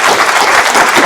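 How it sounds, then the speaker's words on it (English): A conference audience applauding a panel, a dense, loud wash of clapping from many hands filling the whole short moment. "Give this panel a great round of applause."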